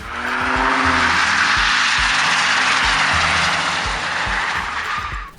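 Tires squeal in a long sustained skid as a diesel Mercedes C-Class slides sideways, engine roaring underneath, loud and close before tapering off at the end.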